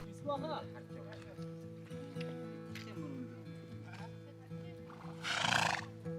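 Horses on a riding expedition in Mongolia whinny and snort outdoors over a low steady drone, with soft hoof clops and a louder rustling burst near the end, while voices murmur in the background.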